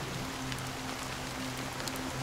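Rain in the video game Honkai Star Rail, a steady close patter of drops on surfaces with a soft low tonal hum running beneath, without pause.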